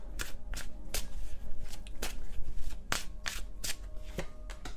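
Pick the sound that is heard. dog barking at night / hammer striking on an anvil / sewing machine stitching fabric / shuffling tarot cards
shuffling tarot cards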